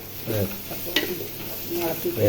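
Macaroni cooking with chicken stock is stirred in a pan, giving soft irregular scrapes and clinks over a low bubbling sizzle, fairly quiet and close, with some background voice-like sound.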